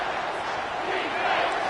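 Stadium crowd at a college football game between Nebraska and Oklahoma roars steadily as fans get behind the defense on third down, a dense, continuous wash of noise with no clear voices standing out.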